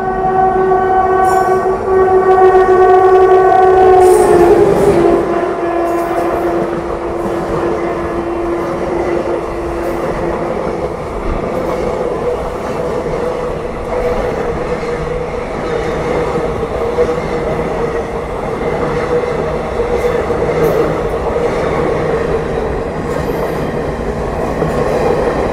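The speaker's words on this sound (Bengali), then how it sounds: "ঝড়ের গতিতে WP7 locomotive Kishanganj rail station পার করছে" A Humsafar Express hauled by a WP7 locomotive rushes through Kishanganj station, opening with a loud sustained horn blast, then a long roaring rumble of wagons rolling past at speed.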